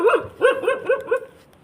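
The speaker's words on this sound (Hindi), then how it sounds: "लेकिन छुप के भौंक रहा है।" A dog hidden out of sight barks at night, a run of five quick, moderately loud barks at mid-distance in an otherwise quiet setting.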